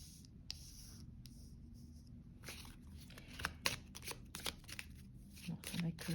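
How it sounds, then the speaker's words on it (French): Playing cards, likely for a tarot-style reading, are riffled, shuffled and laid down in a run of close, papery taps and flutters over a low steady background hum. "je dispose les cartes comme je sens que je dois les disposer"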